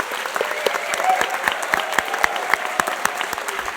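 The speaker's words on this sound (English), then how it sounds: "giving one more wonderful, rousing round of applause for our 2019 graduates" Audience at a 2019 engineering master's hooding ceremony gives the graduates a sustained round of applause, a dense wash of many hands clapping with a few sharper claps standing out near the front.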